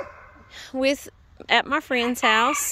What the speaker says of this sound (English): You can hear my son's dog barking